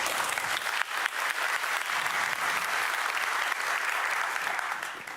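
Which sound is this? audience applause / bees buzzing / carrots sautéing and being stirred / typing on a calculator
audience applause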